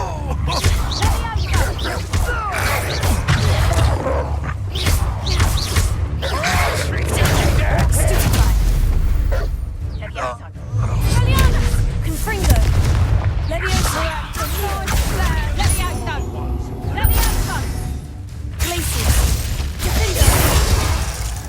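Confringo blasting-spell explosions boom repeatedly during a chaotic fight in Hogwarts Legacy, thudding and crackling amid dense battle noise, with voices talking over the blasts.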